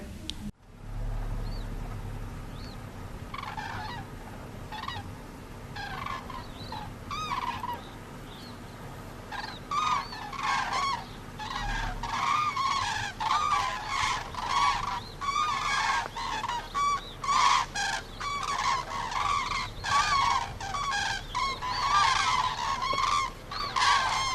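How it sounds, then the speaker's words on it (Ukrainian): A flock of cranes flying in a wedge, calling in a long run of rhythmic honking cries that build and repeat, fairly close and clear with no voices. "це летять журавлики в ключі і виспівують веснянку"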